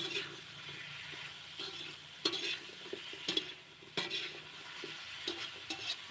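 Pork and cauliflower stir-fry in a pan, with steady sizzling and the scrape and clatter of a utensil stirring throughout, close and moderately loud, no talking.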